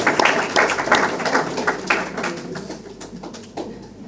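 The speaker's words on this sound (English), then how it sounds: "So I just want to give a round of applause." A round of applause at the CRB awards ceremony, a dense burst of clapping from an audience that starts strong and gradually thins out over a few seconds.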